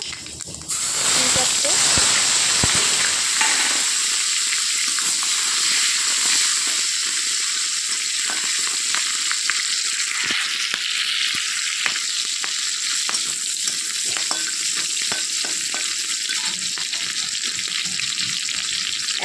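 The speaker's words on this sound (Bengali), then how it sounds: "তো ওই তেলের মধ্যে এখন আমি দিয়ে দিব কয়েকটা কালো জিরে কাঁচা লঙ্কা" Black cumin seeds and green chillies dropped into hot oil left from frying pointed gourd, a sharp burst of sizzling that settles into a loud, steady, continuous crackle close by.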